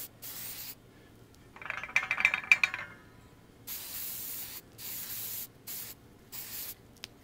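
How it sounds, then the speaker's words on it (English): Aerosol finish being sprayed onto a wooden desk sign in a workshop: a short burst of hiss with faint rattling, followed by several quick close spray bursts separated by brief pauses, with no talk. "So that's all sprayed."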